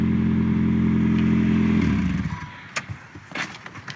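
Toyota car engine held against the rev limiter, a loud steady buzzing drone with rapid cut-out pulses that drops off after about two seconds, leaving faint clatter.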